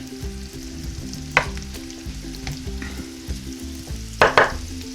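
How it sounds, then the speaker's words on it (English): Aromatics sizzling softly in a pan for white clam sauce to go with linguine, a steady low frying hiss with harmonic hum underneath and a few sharp clinks of a utensil against the pan near the start and end. "Okay, so this just started to simmer."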